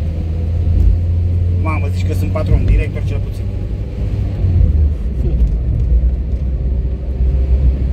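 Low, steady engine rumble of a Renault 12 with a swapped-in engine running close by, while someone talks briefly over it in the first half before the motor carries on alone.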